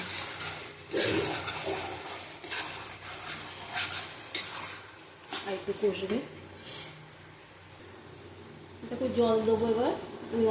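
Warm water poured into cooking mutton in a pot gives a rushing, gurgling splash in bursts, with clinks of utensils against the pot and someone speaking in between.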